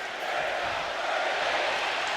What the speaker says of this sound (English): the crowd in appreciation of this match saying we're not worthy